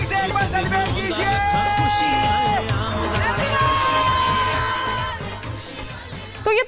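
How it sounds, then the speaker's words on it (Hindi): A crowd hoots and cheers in celebration, a sustained roar of voices with whoops and shouts rising over a steady musical background, loud and continuous before dropping off at the end. "आप अपनी हूटिंग से एक बार सेलिब्रेट कीजिए।"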